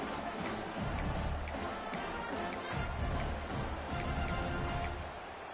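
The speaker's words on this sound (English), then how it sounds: "Crowd trying to make an impact, helping the defense on this crucial play" A steady, loud stadium crowd roar fills an NCAA 26 college football video game, with Notre Dame in a crucial two-point play, and faint sharp ticks and claps poke through the constant wash.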